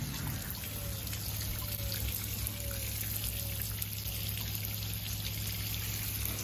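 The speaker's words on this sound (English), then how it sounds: "I've just run quite a lot of water through here." Water trickles and pours steadily through the plumbing of a pull-out toilet in a camper van during a leak test, a constant close flow with a low hum beneath and nobody talking.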